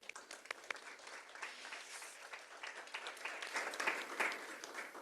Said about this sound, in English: Maybe we can applaud as we did for Brian.